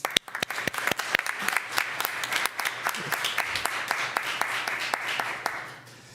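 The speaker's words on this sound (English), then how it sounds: "I think that deserves another round of applause." A council chamber audience applauds at a city council meeting, steady clapping from a modest crowd that holds for about six seconds before tapering off at the end, with no talking.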